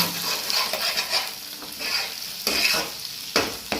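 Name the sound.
stirring potato with egg in a pan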